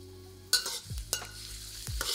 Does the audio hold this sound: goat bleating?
no